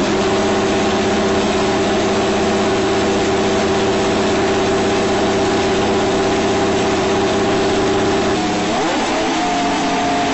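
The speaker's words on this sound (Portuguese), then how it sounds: "E agora vamos para o motor da Ferrari." A Ferrari Formula 1 car engine running loud and steady with a sustained droning tone, then shifting pitch and dropping near the end, with no talking.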